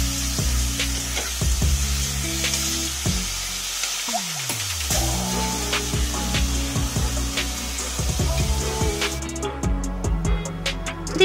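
Chopped onions fry in a kadai with a continuous crackling sizzle, dotted with sharp pops and occasional clinks, holding moderately loud throughout with no talking.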